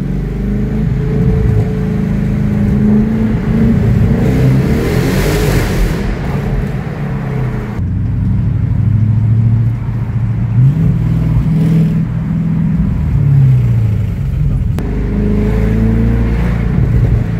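An Audi RS6 engine drones loudly and close, surging and revving in several long pulls in a tunnel with gear-like changes in pitch, no voices heard.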